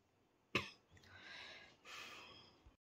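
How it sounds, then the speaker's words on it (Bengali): A child coughs once sharply up close, then breathes out in two long, hoarse, raspy exhalations in a quiet room. "কাশিটাও কমছে না।"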